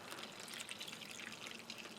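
Cold water trickles into an MRE ration container in a soft, continuous, faint stream, close by and without any voices.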